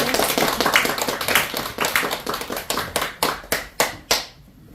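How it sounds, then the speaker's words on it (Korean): Scattered applause from a small group in a lecture session, soon settling into a few loud, evenly spaced hand claps that slow and fade to quiet. "큰 박수 부탁드립니다."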